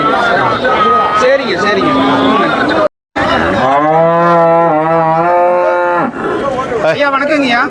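Cattle at the Karimangalam cattle market low loudly in long, drawn-out moos, one after another and close by, with a brief silent gap between calls.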